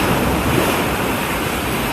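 Ocean surf at Deerfield Beach on a morning at low tide: a steady, broad wash of breaking waves with some wind noise on the microphone, continuous and fairly loud with no voices.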